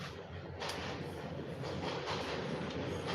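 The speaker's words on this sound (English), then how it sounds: "pretty soon, I won't have to deal with this goddamn loud ass train" A loud train rolls past close by, a continuous heavy rumble and rush of wheels on rails filling the whole stretch with no talk.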